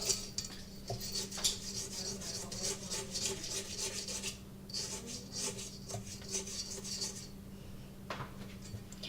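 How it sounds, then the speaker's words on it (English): A utensil scrapes white sugar down the sides of a mixing bowl while baking cookies, a series of faint rasping strokes close by, with short pauses between passes and no talking. "And so if there is ever the white sugar that is up there, scrape it down."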